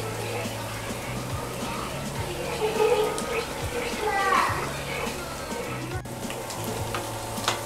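Vegetables cooking in a pan with milk for a creamy pasta sauce, stirred continuously, give a soft steady sizzle with faint scraping, heard close under a voice speaking Tamil.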